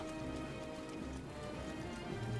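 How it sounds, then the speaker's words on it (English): Rain falling over Hyrule Castle in Zelda: Breath of the Wild, a soft steady patter of drops with faint low rumbling beneath, quiet and continuous. "Is it always raining when you go through Hyrule Castle?"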